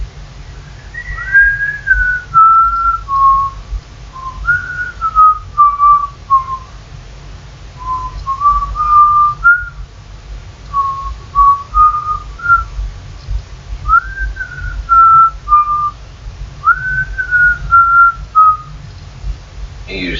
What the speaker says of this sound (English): Would you like me to fucking whistle the music to you?